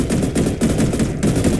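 Rapid automatic gunfire in a Roblox shooter game, sustained bursts repeating in a steady rhythm, loud and close with no talking over it.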